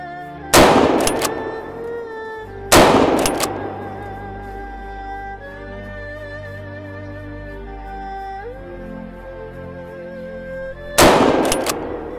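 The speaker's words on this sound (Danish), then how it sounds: "jeg skød, indtil den lå" Rifle shots during a boar drive hunt in Romania, three loud sharp reports spaced several seconds apart, close by, with engine-like hum between them and no talk.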